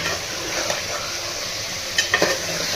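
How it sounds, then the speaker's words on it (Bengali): Mutton with whole garlic cloves frying in a pan for a korma, giving a steady, close hiss of sizzling oil with stirring scrapes and a few sharp clinks of the spoon against the pan near the end. "5 মিনিট এভাবে আমি ভেজে নিয়েছি।"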